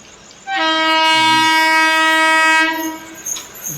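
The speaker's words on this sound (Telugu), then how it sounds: "ట్రైన్ పోతుంది" A loud, sustained horn from a passing train blares for about two seconds, then cuts off, leaving faint rumbling behind.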